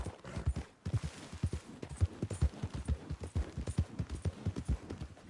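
A horse in a PS4 video game trots with rhythmic, evenly spaced clip-clop hoofbeats, close and moderately loud, a steady beat over several seconds with no voices.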